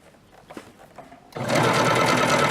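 A home sewing machine stitches a 5/8-inch shoulder seam on a Vogue pattern garment, starting after a moment of quiet handling with a loud, steady, close mechanical whir that runs without pause.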